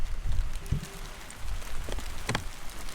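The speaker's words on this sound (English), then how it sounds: "This is not passing. This is hail." Hail patters and clatters on a Nissan Skyline car, a steady, dense drumming with a few sharper, louder impacts and no voices.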